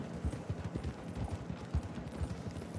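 Horse hooves clip-clop at a steady walking rhythm on a dirt path in a Wild West video game, soft, even thuds repeating throughout.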